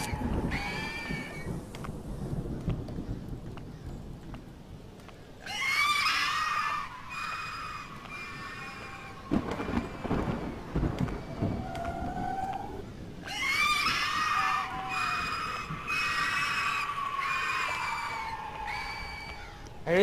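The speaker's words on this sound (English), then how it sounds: "Why are you screaming?" Lost souls screaming in the Bunny Man horror video game, shrill wavering cries that come in long bursts separated by quieter stretches of low game ambience, loud and close.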